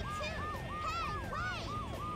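Wailing police sirens from the video game Sonic Adventure 2 sweep rhythmically up and down, several overlapping cycles, loud and constant over a low engine-like rumble.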